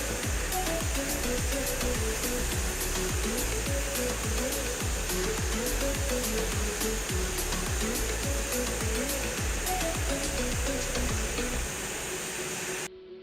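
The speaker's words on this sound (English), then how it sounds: "the VMECA Magic Ripper, which works like a vacuum that suctions the food and puts it where it's supposed to go" VMECA Magic Ripper vacuum handling machine moving packaged food on a production line, a constant loud rushing hiss of suction with rapid regular mechanical thumps and clicks throughout.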